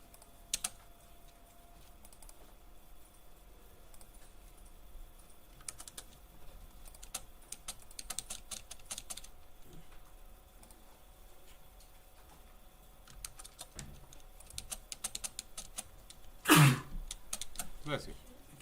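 Computer keyboard typing heard as bursts of quick clicks scattered through the span, with quiet gaps between runs, a loud throat-clearing or cough near the end, and faint background hum.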